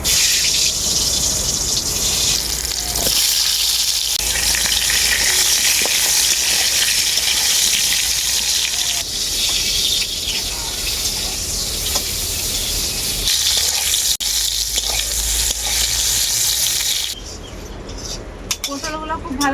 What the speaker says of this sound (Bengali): তেলটা খুব ভালোভাবে গরম হয়ে গেছে পটলগুলো ভেজে নেব তেলের মধ্যে